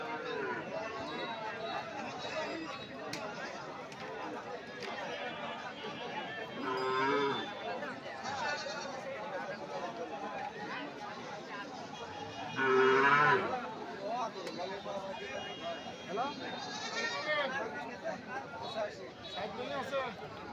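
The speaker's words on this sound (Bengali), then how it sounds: "বিশাল বড় গরুর হাট।" Cattle low now and then at a large, busy cattle market in Sonapur, with louder moos rising over a constant murmur of crowd chatter and nearby talking.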